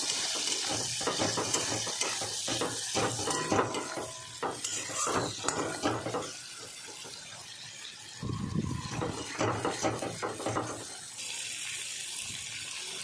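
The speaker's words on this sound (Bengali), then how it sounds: "এটা ভালো করে নাড়াচাড়া করে একটু ফ্রাই করে নেবো" Capsicum and potato with chopped garlic being stir-fried in a pan, a continuous hissing sizzle under steady scraping and stirring strokes, close and busy throughout, no talking.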